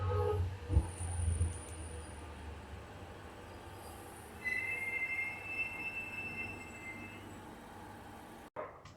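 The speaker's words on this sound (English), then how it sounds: "here is the next shuttle arriving from Camberwell." A three-car shuttle train rolls into Alamein station with rumbling wheels, thuds at the start and high-pitched squeals from the rails midway, then settles and stops; no voices.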